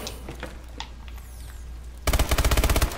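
Rapid automatic gunfire in Call of Duty Advanced Warfare, an MP11 submachine gun burst of evenly spaced loud shots that begins suddenly after a stretch of quieter game ambience.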